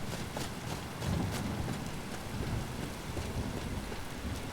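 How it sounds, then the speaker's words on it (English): Steady rain falling in the video game Skyrim during a storm, a constant dense hiss of drops with faint distant rumbles underneath. "But it is raining now."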